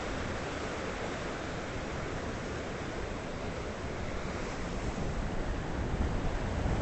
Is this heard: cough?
no